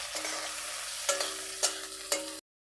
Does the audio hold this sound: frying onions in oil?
yes